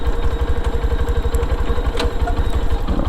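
A Lifan KPR200 motorcycle engine running while riding in second gear, giving a steady, loud, close low drone with a fast pulsing rumble and faint mechanical clatter, with no talk.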